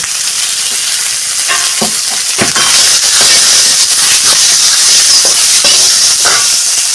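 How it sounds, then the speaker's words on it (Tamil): Fennel seeds, cumin and chopped onion frying in hot oil in a pan for a mutton kofta curry, giving a steady close sizzle broken by scattered stirring clinks and scrapes, with no one talking. "எண்ணெய் ஊற்றிக்கிறேன் சோம்பு கொஞ்சம் ஜீரகம் போட்டுருக்கேன் சாப் ஆனியன் போட்டுக்கிறேன்"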